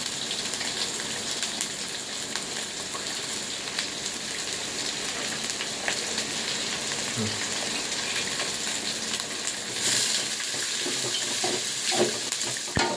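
Curry leaves and green chilies fry in hot oil in a pan, giving a steady, dense sizzle throughout with occasional stirring scrapes and a brighter crackle near the end.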